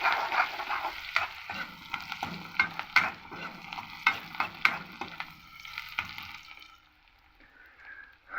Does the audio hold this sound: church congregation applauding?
no